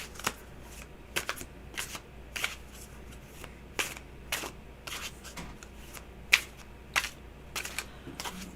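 A deck of tarot cards is shuffled close up in a quiet room, with repeated crisp riffling bursts roughly every half second over a faint steady background hum, and no talking.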